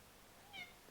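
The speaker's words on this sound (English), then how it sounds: "What's up, little cat?" A single faint, short meow from a cat rises briefly over quiet room hiss.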